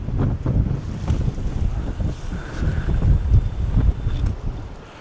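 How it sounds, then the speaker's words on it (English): Strong, relentless wind at sea buffets a fishing boat off Anglesey in North Wales. Loud, gusting microphone rumble mixes with water sloshing against the hull, and no one speaks. "that wind is relentless"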